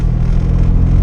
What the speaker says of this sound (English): flat shifting